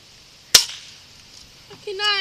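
A single sharp gunshot cracks out close by during backyard target shooting, followed by quiet and then a person talking.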